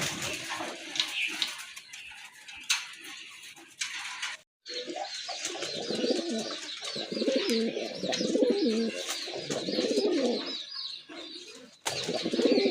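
Pigeons, including a sky-blue big-size Goalla pair, coo repeatedly in low, rolling murmurs, with steady hissing noise throughout and a brief gap of near silence partway.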